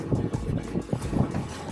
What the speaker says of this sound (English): It's rather windy today